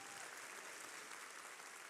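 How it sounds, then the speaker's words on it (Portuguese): An audience at a church sermon applauds in a steady, even wash of clapping that stays fairly soft throughout, with no voices heard over it. "Uma salva de palmas para a galera linda aqui da comunicação"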